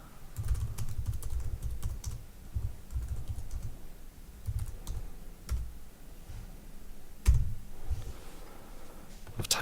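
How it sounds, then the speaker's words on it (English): Fingers type a comment on a computer keyboard, producing close, irregular runs of soft key clicks with brief pauses and a sharper tap near the end. "you can just type in the notes that you want to make"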